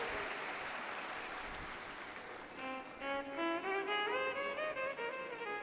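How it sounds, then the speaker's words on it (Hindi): A crowd at a Shiv Mahapuran katha religious gathering applauds for a visiting Baba ji. The clapping is moderately loud at first, then fades under sustained tonal music or singing that takes over for the rest. "एक बार जोरदार ताली बजाएं बाबा जी के लिए"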